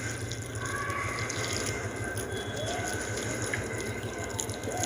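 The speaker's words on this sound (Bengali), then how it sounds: "প্রত্যেকটা পটেই তোমরা দেখতে পাচ্ছ আমি সুন্দর করে জল দিয়ে দিচ্ছি" Water poured steadily into plant pots and grow bags while potting seedlings, a continuous soft splashing trickle close by, fairly quiet and unbroken.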